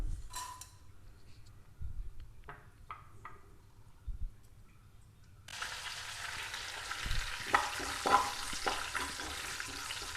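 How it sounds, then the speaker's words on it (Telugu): After a quiet stretch with a few clinks, tempering spices hit hot oil in a pan and a sudden bright sizzle takes over, crackling steadily to the end. "మనకి పోపు దినుసులు వేగిపోయినాయి కదా"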